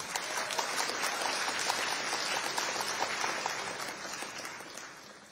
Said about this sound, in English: If you feel like he deserves another applause, you can give it